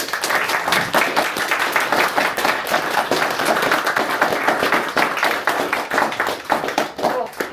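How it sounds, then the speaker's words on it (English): Dense, steady audience applause fills a meeting room for the bus team, many hands clapping at once with no pauses for the full stretch. "Let's give our bus team a round of applause."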